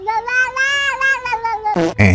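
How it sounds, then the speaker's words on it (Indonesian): A feral cat meows loudly and close by, giving one long, drawn-out wavering cry followed by two short, harsh yowls. "koloni kucing liar ini akan menimbulkan masalah lain. Mereka mungkin bersuara keras dan mengganggu"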